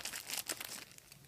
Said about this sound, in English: I'll just use my scissors as well.